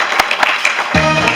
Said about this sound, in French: Public, sous vos applaudissements, les Boltini jongleurs acrobatiques.